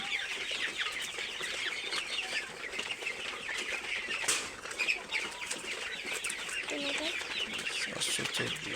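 Sonali chickens about 35 days old cluck and squawk with bursts of wing flapping while being weighed on a farm, a steady close flock chatter with a sharper flurry near the middle.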